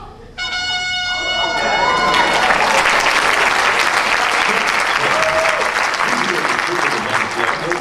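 A loud, sustained round of applause from an audience at a magic performance, dense clapping that starts abruptly after a brief musical chime and carries on steadily to the end.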